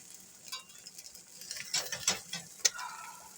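Food is flipped in a frying pan during a pantry clean-out meal, giving quiet scrapes and a soft sizzle with a few sharp clinks of utensil on the pan, close but faint.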